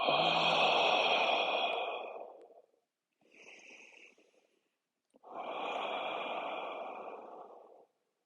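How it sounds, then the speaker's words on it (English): Deep, slow breathing during a guided yoga session, a long noisy breath followed by a short quiet one and then another full long breath, close and audible with silent gaps between. "Breathe in, breathe out."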